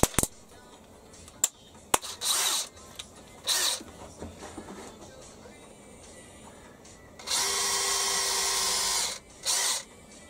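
Short bursts of a power drill whine in several spurts as a tapping drill spot-drills metal on a mill, with clicks and light handling noises in between.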